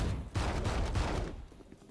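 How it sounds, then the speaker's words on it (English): Gunshots in the shooter game Valorant, a close, dense run of rapid shots that fire steadily through most of the moment and then trail off toward the end. "Two shots."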